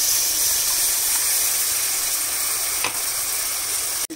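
Tomato puree hits a hot frying pan with a loud, continuous hiss and sizzle up close, steady throughout, with a brief clatter near the end.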